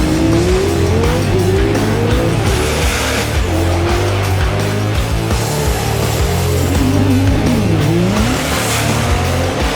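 A 1500HP all-wheel-drive Integra with a stick shift launches at a drag race, its four-cylinder engine roaring loudly and changing pitch through gear shifts, with tire noise and crowd din around it.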